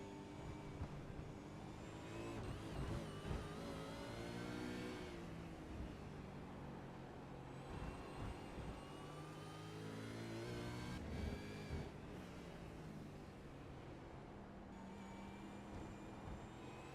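Several V8 Supercar race cars roar past during an East Coast V8 Series round, engines revving and shifting in a dense, continuous mechanical drone, with rising and falling pitch sweeps as cars accelerate and pass nearby.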